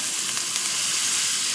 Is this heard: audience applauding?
no